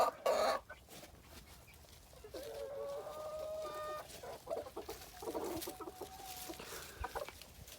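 A flock of ornamental chickens and roosters clucks on and off, with fairly quiet, scattered calls and short murmuring cackles from birds close by.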